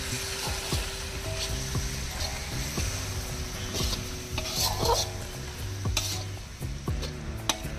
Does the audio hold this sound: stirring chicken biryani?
yes